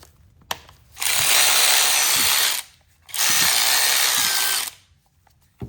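A Snap-on long neck high torque ratchet makes two sustained bursts of rapid, dense clicking, each about a second and a half long with a short pause between, heard up close and with no talking.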